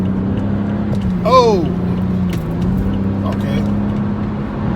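A BMW F32 4 Series car in sport mode, its engine holding a steady low drone heard from inside the cabin, with a brief rising whine, a quick spoken word and some passenger talk over it.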